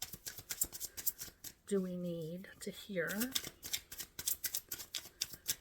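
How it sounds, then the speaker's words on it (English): Tarot cards shuffled by hand in a steady riffling crackle that runs through the whole stretch, close and fairly soft, with a person speaking briefly over it midway. "Shuffling for Virgo for May."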